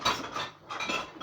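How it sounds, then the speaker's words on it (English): Spoon stirring a pot of oats and wheat porridge, giving soft scraping and light clinks against the pot in an uneven rhythm, close and moderately loud with no talk. "I'm gonna stir to bring it to that"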